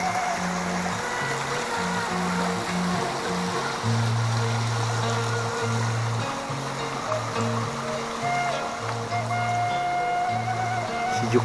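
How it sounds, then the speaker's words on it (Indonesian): A large, muddy river swollen in the rainy season flows steadily past a Sundanese village and rice fields, giving a continuous broad rushing wash that stays loud and even, with a low musical drone running underneath. "Nah, ini sungainya teman-teman, airnya agak keruh karena lagi musim hujan ya."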